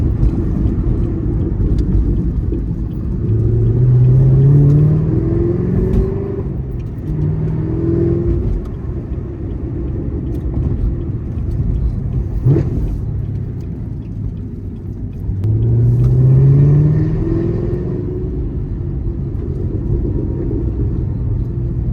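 A 2019 Camaro ZL1 1LE with a supercharged V8, six-speed manual and Corsa Extreme cat-back exhaust, heard from inside while driving: a deep steady exhaust rumble that swells in two rising revving pulls, loud and close, with no talk.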